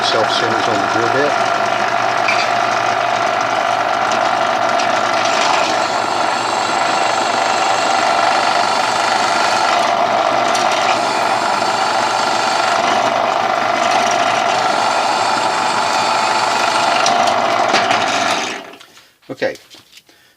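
A loud, steady mechanical whine of a drill boring into a metal endcap runs continuously, then stops abruptly, leaving a few brief clunks.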